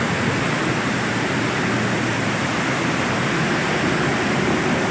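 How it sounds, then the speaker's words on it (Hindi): Waterfalls and flowing water along a mountain track on the Ratti Gali route make a loud, steady broadband rush that fills the whole stretch without a pause. "अबशारें, झरने।"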